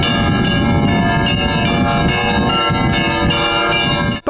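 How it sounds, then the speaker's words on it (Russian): A church bell rings at an Orthodox memorial service for victims of political repression, its loud, sustained metallic peal layered with overlapping strikes and ringing steadily throughout without voices. "По ком звонит колокол в православных храмах 30 октября, знает каждый прихожанин"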